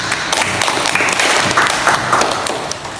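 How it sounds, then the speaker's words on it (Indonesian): Classroom applause from a group of students, a dense burst of clapping that stays loud and continuous throughout. "Kita beri aplaus."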